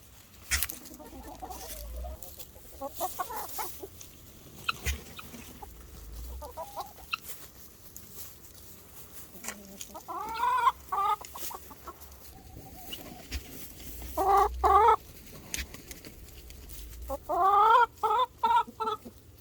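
Backyard chickens and guinea fowl cluck softly and intermittently, with three sharp, loud squabbling bursts of squawks near the end, all close by and with no talking.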